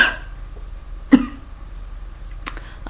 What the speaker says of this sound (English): have a bit of a leftover tickle cough as well